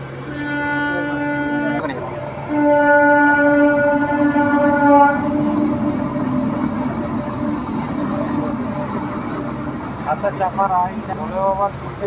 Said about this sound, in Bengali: দেখতে পাচ্ছ মালগাড়ি যাচ্ছে এখন